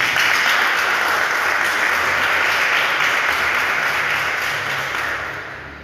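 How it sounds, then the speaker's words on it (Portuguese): A congregation at a Portuguese-language sermon breaks into loud, sustained applause for the Lord, a dense wash of clapping that holds steady and then begins to fade toward the end. "Se você crê, pode aplaudir o Senhor."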